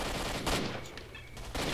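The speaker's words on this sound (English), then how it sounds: "Okay, they are shooting" Gunfire in the game S.T.A.L.K.E.R.: Shadow of Chernobyl, a few quick, faint, distant shots cracking in a short burst.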